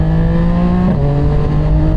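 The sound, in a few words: CFMOTO 675SR motorcycle engine with KO Lightning full exhaust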